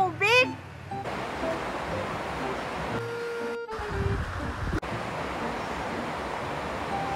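River water flows steadily while people bathe in it, a constant broad rushing wash under close conversation, briefly interrupted by a few short bumps.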